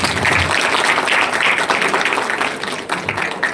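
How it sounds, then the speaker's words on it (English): A crowd claps in sustained, dense applause that holds steady for a few seconds before thinning slightly toward the end. "Let us welcome all the artists with a big round of applause."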